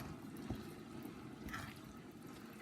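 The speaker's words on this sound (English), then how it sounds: "Don't worry about it bubbling, it's fine." Bolognese sauce simmering in a pan on the stove, faint soft bubbling and occasional gentle pops in a quiet kitchen, with no talking.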